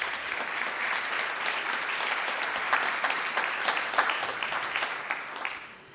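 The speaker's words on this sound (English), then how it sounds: "you may give them a warm round of applause just for having made the grade." An audience at a circular-economy event gives a warm round of steady applause that keeps going for several seconds and fades at the end.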